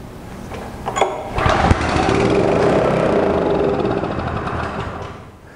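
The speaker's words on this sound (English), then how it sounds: "there you can see the engine did start but did not continue to run" Small engine fed starting fluid through the air filter housing into the carburetor throat, with a carburetor problem: it catches with a couple of sharp pops, runs roughly for a few seconds, then sputters and dies, close and fairly loud.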